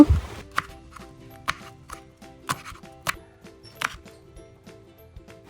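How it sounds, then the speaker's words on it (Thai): Knife slicing red and green chilies diagonally on a board: a steady run of crisp, fairly quiet cuts, close and even in rhythm, no speech. "นำพริกชี้ฟ้าแดงเขียวมาหั่นเฉียง"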